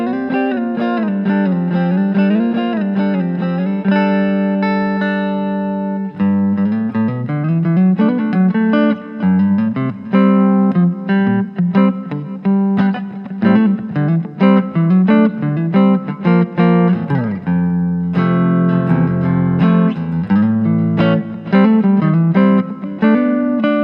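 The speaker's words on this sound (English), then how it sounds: "So that's your standard clean tone with a little bit of reverb" Electric guitar played through a Fender Mustang 1 modeling amp on a clean tone with a little reverb and the master volume low, sustained chords and melodic lines ringing steadily and loud with no talking.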